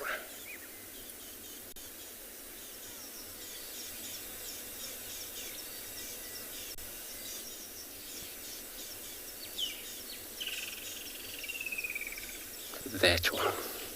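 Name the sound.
lilac-breasted roller calling in the distance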